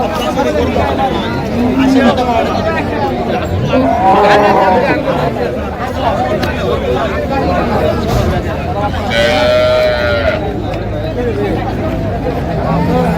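Dairy cows and calves at the Raniganj cattle market, with a couple of drawn-out lowing calls rising through constant crowd chatter and babble of people talking nearby.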